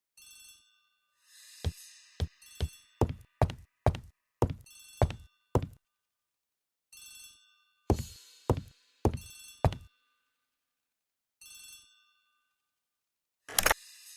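A telephone rings in a hall in several bursts of rapid bell-like trills separated by silence, clear and fairly close, with one last short ring at the end.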